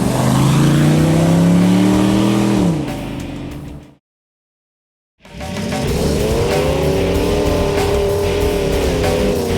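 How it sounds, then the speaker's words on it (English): A Hemi V8 in a Jeep TJ revs hard with a throaty roar that climbs and then falls away, cuts to a second of silence, then returns as another loud, steady engine pass. "We'll relive its throaty payoff when Xtreme 4x4 continues."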